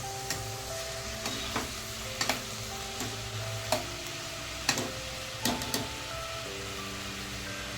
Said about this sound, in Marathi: कांदा आपल्याला चांगला शिजवून घ्यायचा आहे त्याचा मसाला करून घ्यायचा आहे मऊ असा गोल्डन ब्राऊन